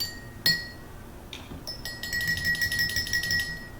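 Drinking glasses struck one after another, producing sharp ringing clinks: a single strike, then a brief tap, then a rapid series of bright chimes with sustained resonant tones.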